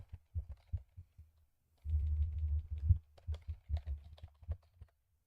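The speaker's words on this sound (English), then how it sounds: "Typing out a tweet" Someone typing out a message on a computer keyboard: irregular bursts of clacky keystrokes, one denser flurry in the middle, close and fairly quiet with no talking.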